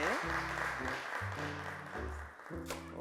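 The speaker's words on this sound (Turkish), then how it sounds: "Ve Sevda Hanım'ı alkışlarla alıyoruz." Studio audience applause welcoming a guest on a Turkish children's TV show, a steady wash of clapping running under a loud stepping music melody for about three seconds.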